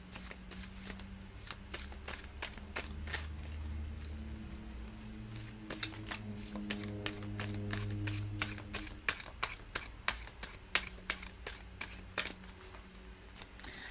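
A deck of tarot cards is shuffled by hand, with soft riffling and sliding followed by a quickening series of crisp card snaps and taps, close and fairly quiet, with no speech.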